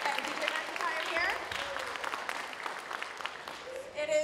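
Audience clapping for jazz band soloists, including a trombonist, at a school spring concert, a steady wash of applause with voices murmuring through it.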